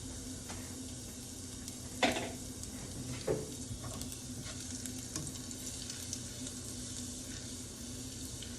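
Scallops with garlic cook in a pan for baked scallops, a steady low sizzle with a few soft stirring clinks and scrapes, close and moderately quiet, no voices.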